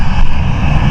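Ryanair airliner engine roaring steadily at Stansted Airport, loud and continuous with a broad, even rumble and no voices.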